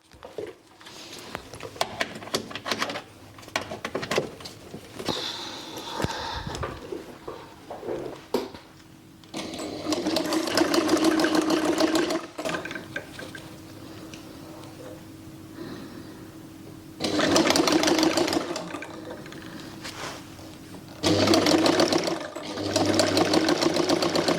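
A Jones Model C sewing machine whirs in several bursts of a few seconds each, starting and stopping with quieter pauses and clicks between runs, close by and alone.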